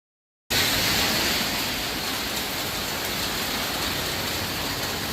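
Heavy rain pours on a Pattaya beach road, a dense, steady hiss that starts abruptly and stays loud and unbroken with no talking.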